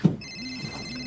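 A telephone rings at home in a steady electronic ringtone with repeating warbling pulses, moderately loud and continuous after a brief bump at the start, with no talk over it.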